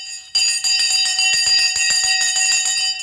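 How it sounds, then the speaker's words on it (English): Loud electric bell ringing steadily for about three seconds after a brief quiet start, with a continuous metallic clatter and no voices, signalling the close of a stock market trading session. "The bell's gone."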